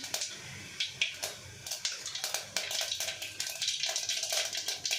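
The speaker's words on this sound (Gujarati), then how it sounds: "તો હવે આપણું તેલ આવી ગયું છે, તો આપણે એમાં 1 ચમચી જેટલી રાઈ મૂકીશું," Mustard seeds crackling in hot oil in a pan while tempering a bitter gourd dish, sharp irregular pops and snaps over a faint sizzle, growing busier and denser as the seeds heat.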